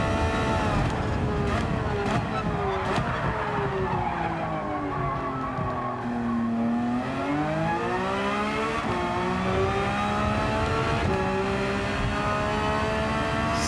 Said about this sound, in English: I think I like the Ferrari sound a lot more.